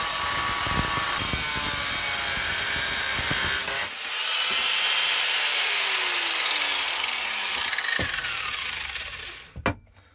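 Stainless steel bar being cut at a 45 degree angle for a foraging hook with a power cutting tool, a loud continuous grinding whine with shifting pitch, briefly easing near four seconds, then resuming before stopping near the end.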